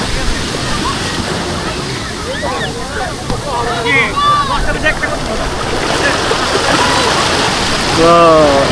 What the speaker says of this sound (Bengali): একদম ঢেউয়ের কি অবস্থা।